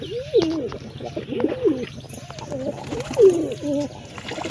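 Several pigeons give soft, rolling coos close by, repeated in overlapping bursts over a low background hum, with faint chirps mixed in.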